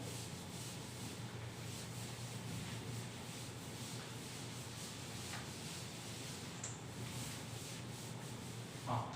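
A duster rubs writing off a classroom board in a continuous, steady scraping hiss that runs the whole time without pause, close and fairly quiet.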